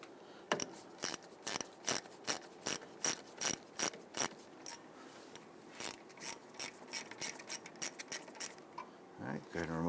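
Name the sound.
ratchet removing wheel cylinder bolt on Toyota Tundra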